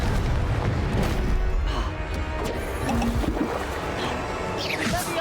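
A Confringo fire spell blasts in the video game Hogwarts Legacy, a dense booming crash with crackling debris and watery rumble filling the mix, loud and continuous over game music and effects.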